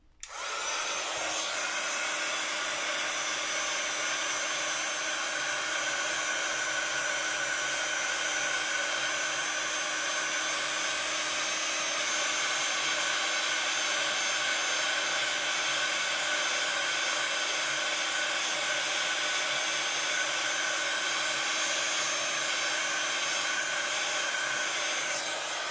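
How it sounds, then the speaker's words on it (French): A heat gun blows steadily while drying a handmade card, a loud, continuous whooshing hum that runs unbroken from start to finish with no talking. "Je vais la repasser, moi, au hot gun. Désolée, ça va faire un peu de bruit."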